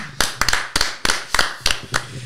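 A small group claps in scattered bursts, about eight sharp clusters of handclaps spaced unevenly, close and fairly loud, with no talking over them.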